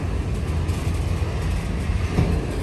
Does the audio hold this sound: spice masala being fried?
no